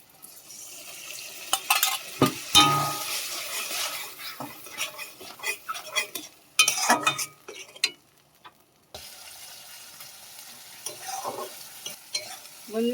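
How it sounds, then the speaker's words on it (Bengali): Masala with chili powder and mustard paste fries for a Bengali shing fish curry. Soft sizzling runs under repeated close scraping and clinking of a spatula stirring the pan, in irregular bursts with brief quieter gaps. "এবার মশলাটা আমার কষানো হয়ে গেছে, কালারটা খুব সুন্দর এসছে, মশলা থেকে তেল ছেড়ে দিয়েছে।"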